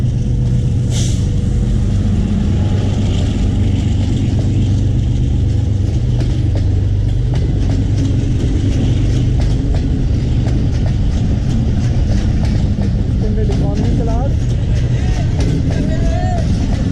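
The Islamabad Express, hauled by locomotive 4558, rolls close past Nur Junction in a loud, continuous rumble with rhythmic wheel clatter, brief screeches and a short horn blast near the start, while people talk over it.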